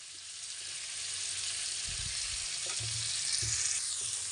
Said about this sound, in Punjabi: ਇਹਨੂੰ 1-2 ਮਿੰਟ ਲਈ ਭੁੰਨਾਂਗੇ ਜੀ ਜਿੰਨੀ ਦੇਰ ਤੱਕ ਪਿਆਜ਼ਾਂ ਦਾ ਪਾਣੀ ਜਾਨੀ ਨਹੀਂ ਮੱਚ ਜਾਂਦਾ